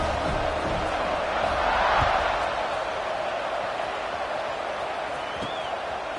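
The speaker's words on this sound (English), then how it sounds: "this crowd is feeling themselves after that last drive" Football stadium crowd roaring steadily after a scoring drive, a broad sustained wash of cheering and noise with a slight swell early on, heard at a distance.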